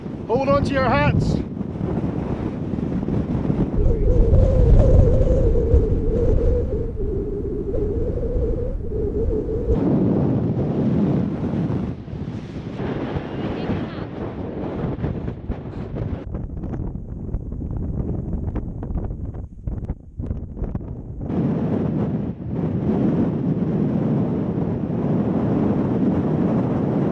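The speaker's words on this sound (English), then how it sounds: "It's got a wee bit windy up here now." Wind gusting across an exposed hilltop ridge near Corrour Station in the Scottish highlands, a steady roaring rumble against the microphone that swells and eases for the whole stretch, with a voice speaking briefly at the start.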